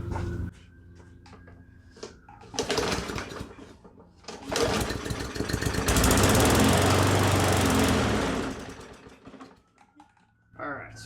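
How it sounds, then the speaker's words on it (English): A Weed Eater lawn mower engine sputtering to life on quick start spray, firing in rough bursts then running loudly with shaking vibration before dying down, with speech nearby. "we got an engine that'll run"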